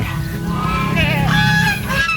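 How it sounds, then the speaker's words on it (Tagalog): Several unfed geese on a farm honk nearby in overlapping, nasal calls, a noisy cluster of cries lasting a couple of seconds. "Ating gansa, hindi pa napapakain yan."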